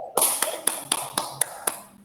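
Children clap together in a classroom, a quick burst of about seven sharp, fairly even claps in a row, loud and close.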